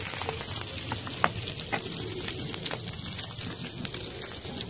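Kokoreç sizzles on a charcoal mangal grill, a dense, crackling fry with scattered sharp pops standing out from the constant hiss, heard up close with no talking.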